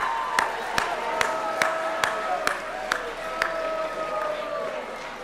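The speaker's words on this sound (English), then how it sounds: "it's appropriate to give them a round of applause." An audience applauding at a senior awards assembly, a moderate wash of clapping with a few sharp, louder claps standing out and a sustained ringing tone running underneath.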